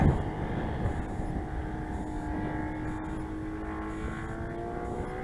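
A Saito FG90 R3 engine on a TF Corsair RC plane runs at full throttle in flight. It makes a distant, steady buzzing drone whose pitch slowly slides as the plane passes through the air.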